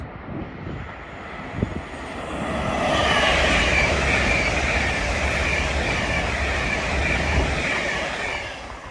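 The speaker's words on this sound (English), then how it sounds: "about to pass through will be an LNER Azuma going from Newcastle to London King's Cross" An LNER Azuma on its run from Newcastle to London King's Cross rushes through Peterborough station on the East Coast Main Line, a broad roar that builds quickly, stays loud and steady as it passes nearby, then begins to fade.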